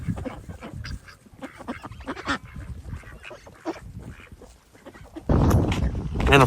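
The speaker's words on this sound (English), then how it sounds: "Just the little ducks being ducks." Small backyard ducks kept alongside chickens and peacocks quack and honk in an uneven, chattering run of calls, then burst into a louder, denser flurry near the end, with a voice briefly mixed in.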